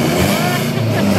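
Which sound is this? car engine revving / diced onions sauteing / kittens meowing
car engine revving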